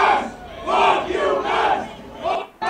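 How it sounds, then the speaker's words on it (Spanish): A large grandstand crowd at the Monza Grand Prix booing Max Verstappen, a loud sustained jeer rising and falling in waves before dropping off. "El abucheo es tremendo"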